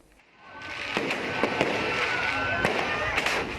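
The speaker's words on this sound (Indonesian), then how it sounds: "Ledakan terjadi saat korban sedang memegang dan menyalakan kembang api." Fireworks explode at a New Year's Eve celebration, one sharp blast followed by a dense crackling burst and several loud pops over a roaring wash of sound.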